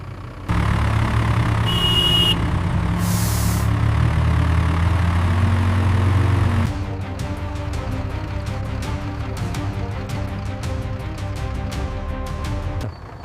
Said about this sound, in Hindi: ये अशोक लीलैंड है और चलाने वाले तुम हो। ये पहाड़ चढ़ सकता है तो गांव की सड़क क्या चीज है? मोड़ लो गाड़ी।